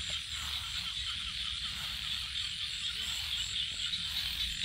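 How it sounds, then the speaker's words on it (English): Frogs croak at night in rural Cambodia, a dense continuous chorus with insect-like high buzzing throughout, steady and fairly loud with no voices. "Ooh, the frog."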